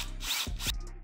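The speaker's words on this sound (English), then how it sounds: "I'll secure the front lock plate with a washer and a self-tapping screw." A self-tapping screw driven into a Harley saddlebag lock plate, heard as a short, close whirring grind of a power driver with a couple of brief bursts, alone.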